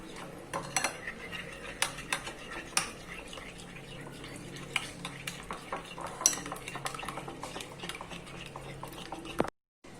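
Spoon stirring chicken with red chili and salt in a pan or bowl, steady scraping and clinking of utensils against the dish with a few sharper knocks, close and moderately quiet, no voices.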